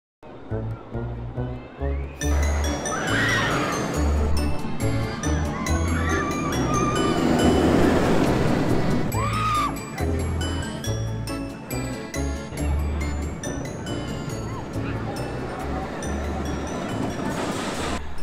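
Superman roller coaster at Six Flags Great Adventure, with a loud rushing roar and rattling track noise, metallic jingles and distant screams blending with crowd chatter throughout.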